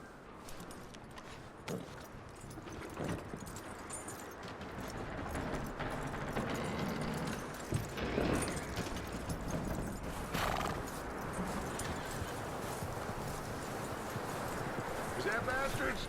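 Horse hooves clip-clop at a steady pace in the Red Dead Redemption 2 video game, with a horse whinnying, while voices talk over the sound throughout.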